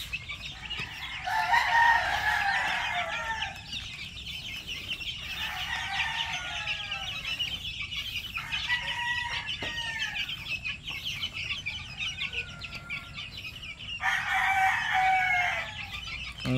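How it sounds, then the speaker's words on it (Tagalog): White Boston and Boston Black chickens, with young one-month-old chicks among them, fill a farmyard with clucking and a few crowing calls that come in bursts over a steady background. "One month old chicks."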